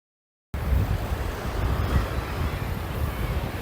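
Wind and breaking waves on the rocky coast of Filey Brigg, a spit of land near Filey in Yorkshire, make a steady broad roar that begins abruptly and continues without pause.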